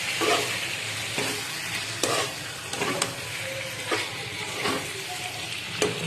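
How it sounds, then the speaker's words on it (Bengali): Mutton and plenty of potato pieces are stirred and fried in a pot for a mutton curry, a constant sizzle broken by regular spoon scrapes and clacks about once a second, close and fairly loud, with no talking. "তারপরে মাটনটা দিলাম। তারপরে নাড়াচাড়া করি একটু।"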